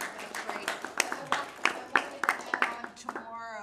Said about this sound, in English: So can we give him a round of applause?